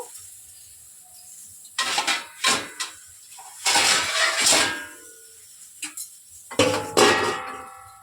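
A lid is set onto a pan of frying cauliflower fritters, giving a few sharp metallic clangs and rattles, close and loud, between stretches of quiet frying hiss.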